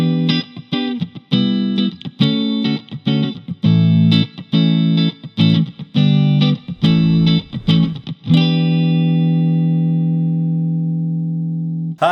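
An electric guitar plays through a Nux Mighty Space amp on its Just Clean preset with spring reverb, a run of loud, bright picked notes and chords that ends in one long ringing chord left to decay.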